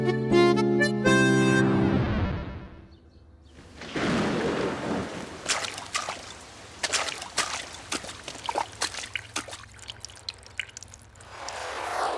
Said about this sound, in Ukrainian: дощ скінчився